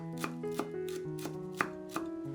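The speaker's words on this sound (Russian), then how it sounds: "Нарезаем небольшой пучок петрушки." A knife chops through a small bunch of parsley on a cutting board in a home kitchen, with six or so crisp taps in an uneven rhythm, close and fairly quiet, over soft background music.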